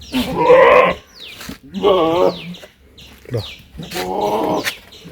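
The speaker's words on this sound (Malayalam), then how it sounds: "ഇതാ, വലിയ മുട്ടന്മാർ." Large billy goats at a livestock sale bleat loudly and close by, several long wavering calls one after another with short pauses between them.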